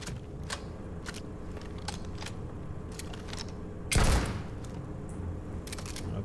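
Bursts of gunfire in the video game Starfield, with a run of sharp rapid shots and one louder blast near the middle against a steady game background.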